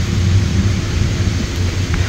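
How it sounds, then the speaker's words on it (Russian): A thunderstorm pours heavy, steady rain with a deep low rumble of thunder underneath, loud and continuous outdoors with no voices. "Прилетела гроза."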